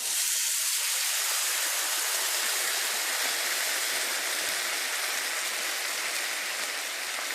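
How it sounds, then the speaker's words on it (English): Tomato sauce and water mixture poured onto hot browned rice for Mexican rice, giving a loud, steady hiss and sizzle that fills the whole stretch without talk. "now we're going to pour in our tomato sauce and water mixture"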